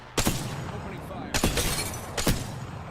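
Three sharp sniper shots ring out in Apex Legends, each a loud crack with a short decaying tail, spaced about a second apart against faint game ambience.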